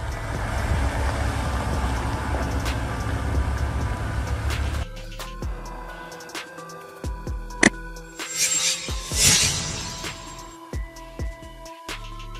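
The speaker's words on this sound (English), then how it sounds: "Flatbed truck." A flatbed truck rumbling loudly at first, then dropping to quieter scattered clunks and knocks with a sharp hiss of air and a few short beeps.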